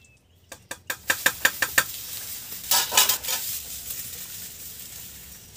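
A spoon or ladle clinks rapidly against a pan in a quick series, then khasta goja dough sizzles and bubbles softly in hot oil, the frying hiss swelling briefly before settling into a faint steady crackle.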